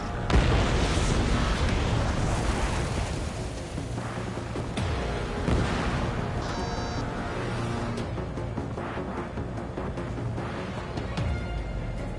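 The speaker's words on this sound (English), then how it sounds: "Missile away." Missiles and weapons firing in a combat flight video game played on PS4, a loud sustained roar of blasts and booms with a continuous dense rumble throughout, no pauses or talk.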